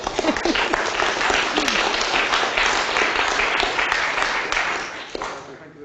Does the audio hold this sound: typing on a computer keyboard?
no